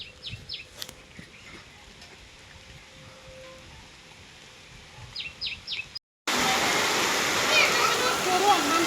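Quiet outdoor ambience on a farm with a few bird chirps, then after a brief cut a loud, steady roar of heavy rain pours down continuously.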